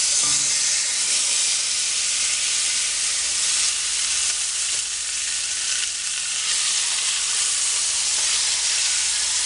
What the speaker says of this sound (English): we're going to now lay this breast side down in the skillet, and we're going to let it brown on the top side